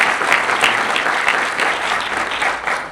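Graduates of a youth services officer core academy clap for themselves, a dense, even round of applause from a room of people, fairly close and sustained without talk.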